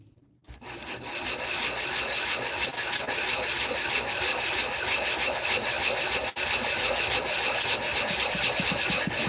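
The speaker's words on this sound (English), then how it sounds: "trying to sand this smooth" Sandpaper rasps steadily against a wooden piece being sanded smooth by hand, with continuous loud scraping strokes close up. One brief break comes partway through.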